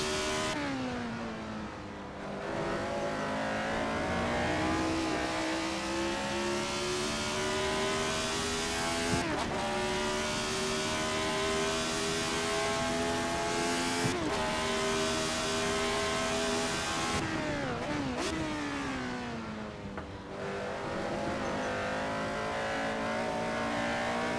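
A retro F1 race car in Assetto Corsa at Monza screams at high revs, its engine note climbing steadily through gears with abrupt drops at each shift, loud and continuous with brief tire squeal.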